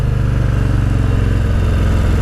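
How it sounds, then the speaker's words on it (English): Exhaust of a 2023 Harley-Davidson Street Bob motorcycle burbling and popping on deceleration, a loud, close, throbbing low rumble with an even pulsing beat. "you hear that exhaust on a decel?"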